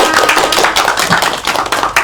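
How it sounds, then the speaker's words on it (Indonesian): A classroom group of students applauds, dense overlapping hand claps forming a steady burst of close, loud clapping with no talk over it. "Oke, tepuk tangan untuk kalian semua."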